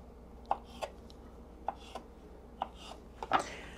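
Blunt knife cutting aloe vera gel into little pieces, a handful of soft, sparse chopping taps at uneven intervals, faint and close against a quiet background.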